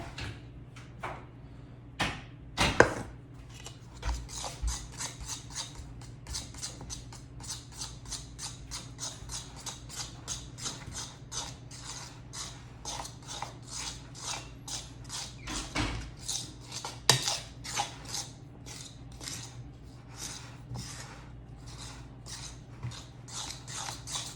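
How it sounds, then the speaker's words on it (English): A fork works flour into banana muffin batter in a bowl, making a steady run of quick, light clicks and taps at close range, with a few sharper knocks. "now I'm going to slowly incorporate the flour"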